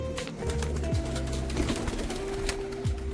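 Pigeons coo repeatedly nearby, low rolling calls overlapping one another against a busy background of rustling and other faint sounds.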